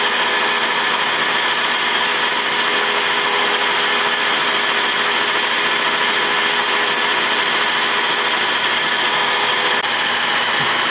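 A metal lathe cuts an oiled workpiece under power feed, producing a loud, steady whine with sustained tonal hum and no pauses or voices throughout.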